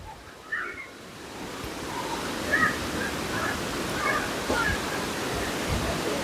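Steady broadband rush of water from Lampi Waterfall in Phang Nga, Thailand, a continuous roar heard from a nearby bridge with faint chirps and voices scattered over it.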